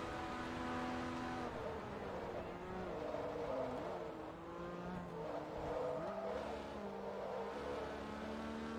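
A TVR race car in Forza Motorsport 2, engine note rising and falling through gear changes with steady droning revs and brief dips, heard alone without talk.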